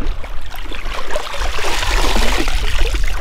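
A full-face Seaview 180 snorkel mask is swished and rinsed in seawater at an island beach in Fiji. The result is a close, continuous watery trickle and sloshing with no voices.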